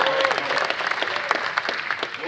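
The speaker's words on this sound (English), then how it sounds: "let's have a nice round of applause for that" Applause fills a Ford press conference at the 2019 SEMA Show. Many hands clap continuously, with a busy, even texture and a few louder claps standing out.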